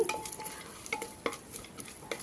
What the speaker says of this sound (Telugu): హోల్ గరం మసాలా దినుసులు వేసి వేయించుకోవాలి